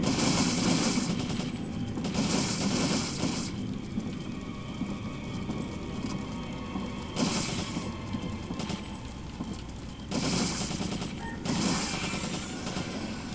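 Rapid submachine-gun bursts from Resident Evil 4 rattle in repeated volleys, the loudest at the start, around seven seconds and near ten seconds, with the game's rumbling background between them and no talk.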